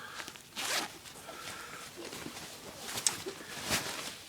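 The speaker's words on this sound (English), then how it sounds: "Zipper." Quick zipper pulls on camouflage army pants, a few short rasping zips close by, interspersed with soft fabric rustling and handling noises.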